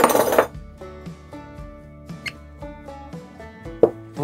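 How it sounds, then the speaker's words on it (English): Utensil stirring vanilla into an old-fashioned corn pudding mixture in a bowl, heard as light clinks and taps in an irregular rhythm, close and fairly quiet, with a louder clatter at the start. "We're gonna put 1 tablespoon of vanilla, not teaspoon, tablespoon. In it goes. We're gonna give that a stir."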